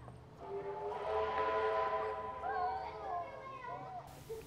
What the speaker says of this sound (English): we now see 6229 pulling into its destination, Goulburn